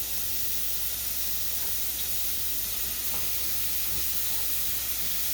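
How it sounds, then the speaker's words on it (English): Bacon or ham fries in a pan with a dense, continuous sizzling hiss, close and steady throughout, with a few faint pops and no talking. "next we're gonna fry the bacon or ham"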